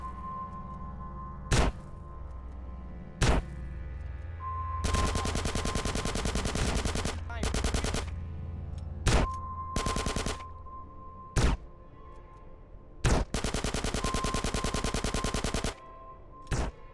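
Gunshots in GTA San Andreas: sharp single shots spaced a couple of seconds apart, alternating with longer rapid automatic bursts over a steady low background hum.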